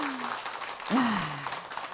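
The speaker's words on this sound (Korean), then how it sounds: "박수 한번 주세요." An audience at a televised lecture applauds a guitarist with steady, moderate clapping, and a voice briefly rises over it partway through.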